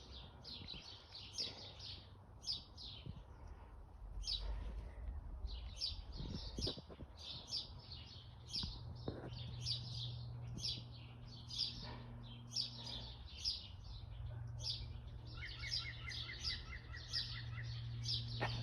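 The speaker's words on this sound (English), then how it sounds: "So that's why the woodpecker is doing the alarm call." A woodpecker gives an alarm call while a fox is nearby, repeating sharp, evenly spaced chips throughout. The calls sound moderately distant against quiet low outdoor rumble, and other bird calls come in near the end.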